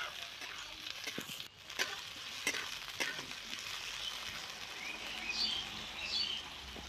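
Cut brinjal pieces fry in hot oil, giving a faint continuous sizzle with a few sharp ticks and clatters, while bird calls chirp in the background.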